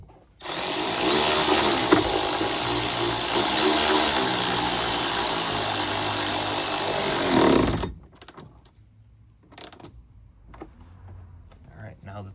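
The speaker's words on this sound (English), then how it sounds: "I'm going to install our 8mm screw back into the front of the airbox" A power tool drives an 8mm screw into the front of the airbox on a 2018-or-earlier Dodge Hellcat Challenger. A loud, continuous whir runs for about seven seconds, then stops abruptly, leaving quiet with a few faint clicks.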